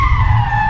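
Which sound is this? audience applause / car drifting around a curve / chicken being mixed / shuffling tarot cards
car drifting around a curve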